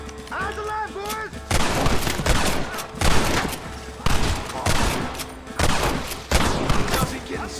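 Gunfire in the Red Dead Redemption video game: loud, dense volleys of overlapping shots in repeated bursts during a shootout, with game voices shouting underneath.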